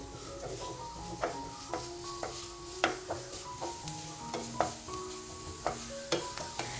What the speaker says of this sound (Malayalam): സവാള ചേർത്ത് കൊടുത്തതിന് ശേഷം പിന്നെ നമ്മൾ നന്നായിട്ടൊന്ന് വഴറ്റി കൊടുക്കണം.